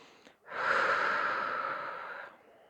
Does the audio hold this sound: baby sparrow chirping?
no